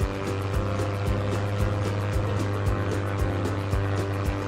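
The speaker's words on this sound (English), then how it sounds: "Crop duster plane." A crop duster plane's propeller engine drones loud and close, a fast, steady rhythmic thrumming with even pulses throughout, with no voices.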